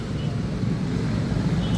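Outdoor wind blowing hard against the microphone, a steady low rumbling roar with fluttering gusts throughout, loud and close.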